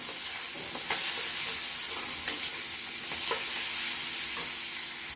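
Sesame seeds frying in a pan, producing a continuous bright hiss with faint scattered ticks and crackles, steady and close throughout.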